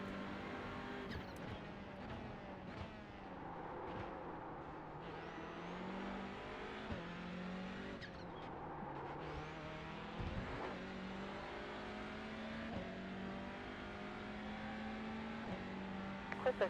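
Race car engines in a racing video game whine and rev through gear changes for about seventeen seconds, rising and falling in pitch as cars jostle in a pack, with no talk over them.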